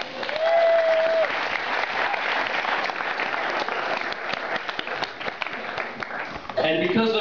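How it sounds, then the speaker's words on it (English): Loud, sustained applause from a college student audience at Dartmouth, a dense wash of clapping with cheering mixed in and a voice cutting through near the end. "please applaud that"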